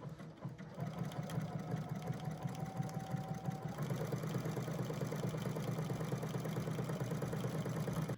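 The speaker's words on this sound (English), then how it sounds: "After we stitch the panel to your frame" Sewing machine stitching an appliqué rose fabric panel onto a frame, a steady rapid mechanical whirr running throughout the clip at moderate level with no talking.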